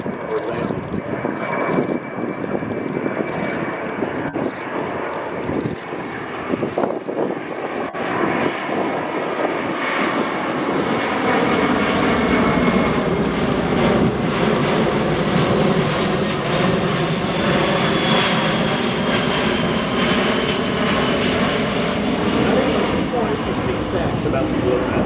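A C-17 military transport aircraft roars loudly at an airshow at EAA AirVenture Oshkosh 2024, its engine noise swelling and holding steady as it passes close by, with a faint announcer's voice in the background.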